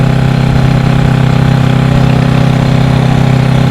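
A Honda CB360 motorcycle engine runs steadily in sixth gear, a loud, even drone at constant revs with no speech over it.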